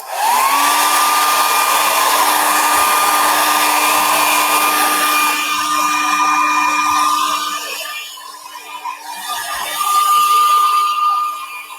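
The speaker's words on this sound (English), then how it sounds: "So I'm going to pick up my hairdryer." A hair dryer blows loudly and steadily with a constant high whine, its pitch shifting slightly as it runs, easing briefly near the end.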